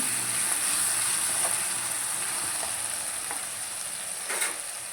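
Ginger garlic paste sizzles in hot oil, a loud, steady, close hiss that continues throughout, with a few faint utensil knocks and no talking.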